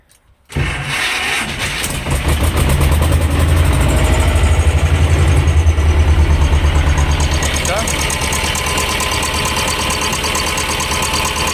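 A T-25 tractor engine cranks and fires after a brief silence, then settles into a loud, steady, knocking diesel idle that continues to the end, close up.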